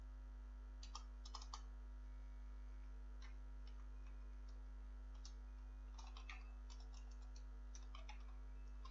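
Keys tapping on a computer keyboard while JavaScript code is typed, soft irregular clicks in short runs over a steady electrical hum, close and quiet with no voices.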